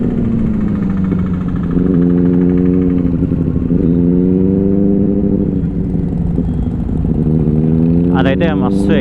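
Customized motorcycle with an aftermarket exhaust, idling with a steady deep rumble and rising and falling in pitch through revs, close and loud, with a short burst of higher noise at the end.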